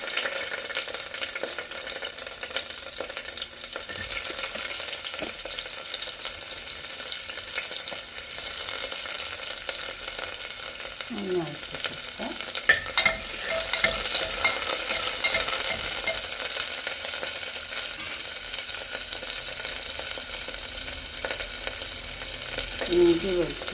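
Onions sizzle and fry in oil inside a pressure cooker on a stove, a steady close crackle with occasional stirring clinks and scrapes, no talking.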